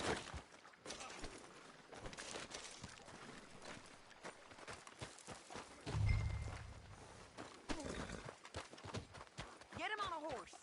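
Horse hooves clip-clop in a Red Dead Redemption 2 scene, irregular thuds mixed with other game noise and a low rumble, while voices talk over them.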